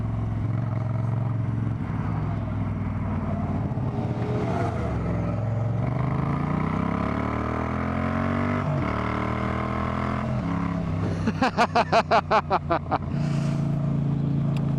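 A Moto Guzzi-style V9 Bobber twin-cylinder motorcycle is ridden, its engine droning steadily close up and rising and falling in pitch through gear changes, with wind noise and a brief burst of rapid pulsing near the end; a rider speaks over it.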